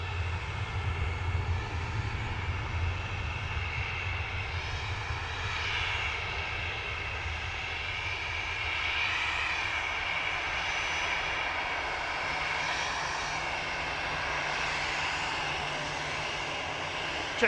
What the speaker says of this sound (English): Jet2 A330 to Palma,